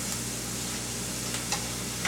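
Chips deep frying in hot oil give a steady, faint sizzle and hiss, with a few soft crackles near the end and no talk.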